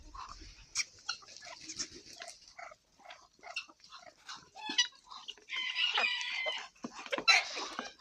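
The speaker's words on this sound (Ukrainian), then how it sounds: "не знаєте чого півні помиритися ще не можуть" Hens cluck and squawk in a busy village farmyard in the morning, with a rooster crowing and scattered bird calls overlapping, moderately near.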